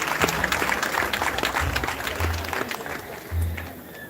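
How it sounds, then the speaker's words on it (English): An audience at a high school graduation ceremony gives a round of applause, with many hands clapping steadily for several seconds and a low rumble of crowd movement beneath. "Give him a round of applause for that."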